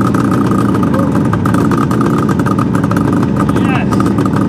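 A Suzuki GT550 two-stroke triple motorcycle, a barn find starting for the first time in ten years, runs with a loud, steady, close engine note throughout, smoking heavily with the choke just turned off.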